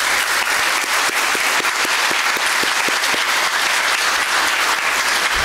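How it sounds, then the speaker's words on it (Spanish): Sustained, loud audience applause greets the new pope at a gathering of Peruvians, a dense wash of many hands clapping steadily throughout with no voices over it. "Vamos a darle un aplauso al nuevo papa."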